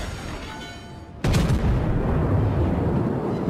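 Warship guns firing in World of Warships, a sudden heavy boom that breaks over low engine rumble and rolls on into a sustained, loud roar.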